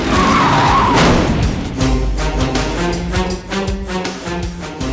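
A car brakes hard to a stop on a street outside a building, tires skidding loudly for the first second or so, followed by a close, rumbling engine with a steady low idle and some clattering.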